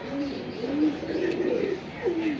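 Several large pigeons coo in repeated soft, rolling phrases close by, with a faint murmur of background noise between the calls.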